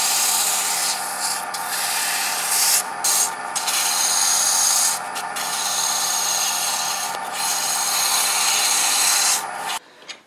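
Poplar wood is hand sanded with 220 grit sandpaper on a lathe-turned ornament, a steady close hiss of abrasive rubbing broken by short pauses between strokes.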